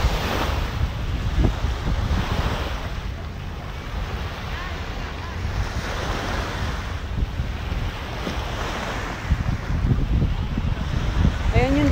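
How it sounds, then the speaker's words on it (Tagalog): Steady sea waves wash and rumble with wind buffeting the microphone at the seaside in Kuwait, a continuous surf noise of small waves with occasional swells and faint voices in the background. "Hindi malaki yung alon."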